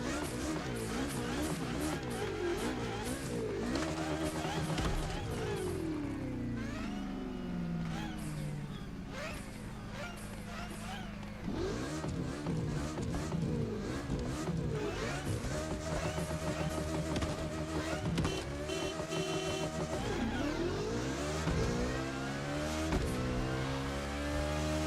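A game car engine in GTA revs and roars continuously, rising and falling through gear changes with occasional tire squeal, loud and close throughout.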